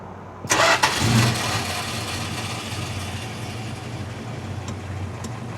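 An old California car's engine cranks sluggishly on a draining battery, a loud, close burst at the start settling into a steady, rough, low mechanical drone.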